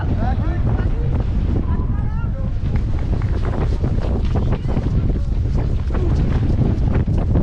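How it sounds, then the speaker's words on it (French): Strong wind buffets the microphone on an ultramarathon trail during the 175 km Grand Raid of the Ultra Marin 2023, a loud, continuous roar throughout with a brief voice early on. "il y a beaucoup de vent."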